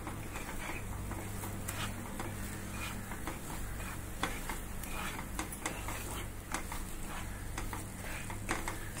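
Poppy seed and almond kheer is stirred steadily over a low flame, giving soft continuous scraping and light bubbling ticks, close and fairly quiet, with no talking.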